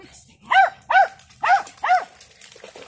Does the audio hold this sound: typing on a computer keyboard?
no